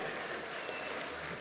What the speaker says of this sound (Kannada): ಬನ್ನಿ ಚಪ್ಪಾಳೆ.